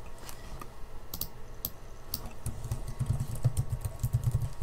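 Someone typing a file name on a computer keyboard, quick, light key clicks in short bursts over a low hum in the background.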